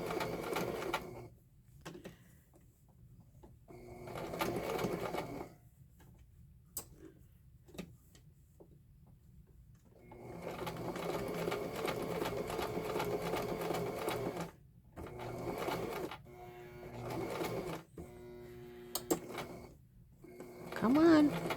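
A sewing machine runs a straight stitch through a handmade paper birthday card, its rapid mechanical whirring and ticking arriving in several separate bursts with quiet gaps between them, close and clear.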